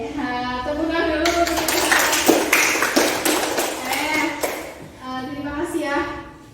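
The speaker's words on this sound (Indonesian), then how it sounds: "tepuk tangan dulu" A small group claps together at an indoor group counselling session, a burst of hand clapping of a few seconds rising between stretches of talking.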